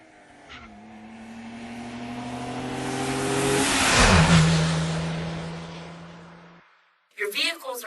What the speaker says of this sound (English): You have one car traveling down a surprisingly vehicle-free zone